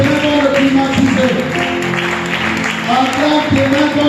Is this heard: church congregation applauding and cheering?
yes